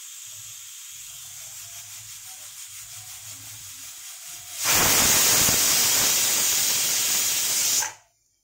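A pressure cooker whistle releases steam while mixed leftover vegetables cook. Low kitchen murmur gives way to a sudden loud, steady hiss that holds for about three seconds before cutting off abruptly.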